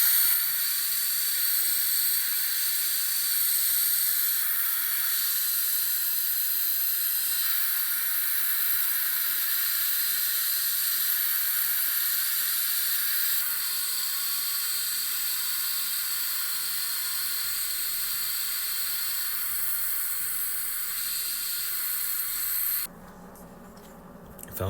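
A 3D-printed pneumatic turbine spins up with no load attached, giving a steady, loud, high whine with layered tones that holds for about twenty seconds, then cuts out abruptly near the end.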